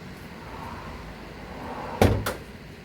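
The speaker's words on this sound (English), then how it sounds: "you got to pop that hood open." The hood of a 2013 Mazda 3 is released and popped open: two quick thuds about a quarter second apart, the first louder, close by against low room noise.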